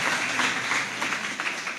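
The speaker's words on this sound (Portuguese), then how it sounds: "Palmas para os atores, gente." Audience applauding actors at a church service, a steady dense wash of many hands clapping throughout, fairly distant and even in loudness with no clear talk.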